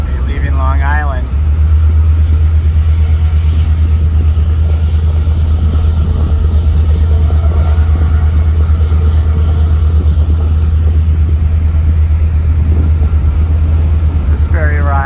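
On a ferry crossing from Orient Point, Long Island to New London, Connecticut, a deep, loud, steady engine rumble drones continuously, with a brief voice at the start and end.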